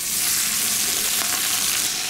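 Pieces of beef, rib and chuck, sizzle and fry in hot oil in a pot for pot-au-feu, a loud, steady close crackle with no talk.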